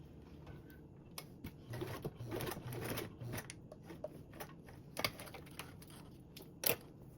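Sewing machine basting nylon webbing with a D-ring along the bottom edge of a sling strap, heard as bursts of quick mechanical stitching separated by short pauses, fairly close and quiet.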